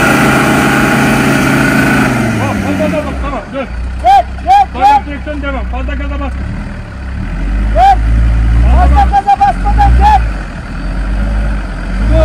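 A Land Rover TD5 diesel works off-road on rough ground in Rize, its low engine rumble running steadily through the clip while people shout and talk over it.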